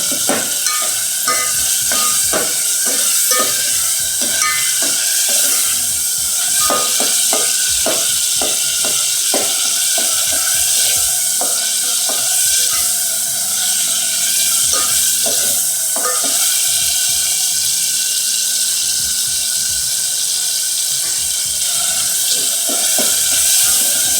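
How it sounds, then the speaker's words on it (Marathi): Onion and tomato roasting with salt in a pan, a loud steady sizzle throughout with frequent clicks and scrapes of a spoon stirring against the metal, and no speech. "कांदा आणि टोमॅटो आपण मीठ भाजून व्यवस्थित भाजून घ्यायचा."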